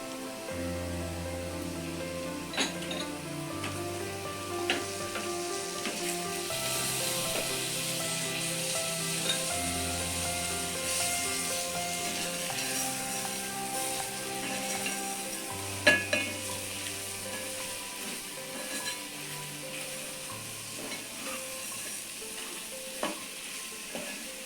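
Eggs fry in garlic chili paste in a pan, with a continuous soft sizzle running throughout and occasional clicks and scrapes of a utensil; quiet, with faint background music underneath.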